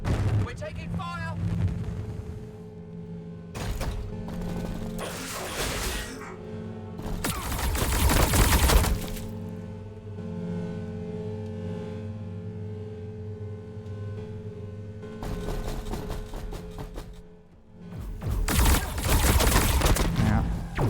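Bursts of gunfire and explosions ring out in the Warhammer Battlesector strategy game, loud clustered volleys separated by quieter stretches, with a voice talking over parts of the action.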